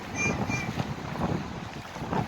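Wind gusting across the microphone in soft, uneven waves, a breathy rush that rises and falls with no one speaking.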